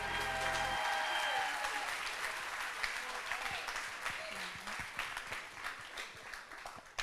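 An audience claps for puppy raisers at a service dog team graduation ceremony. The applause is dense and continuous, a brief tone sounds at the start, and it tapers slightly over several seconds.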